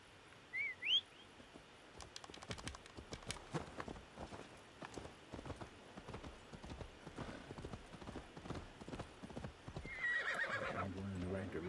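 A horse whinnies in Assassin's Creed Valhalla, then its hooves clip-clop in a steady walking rhythm, with another neigh near the end and faint ambient sound behind.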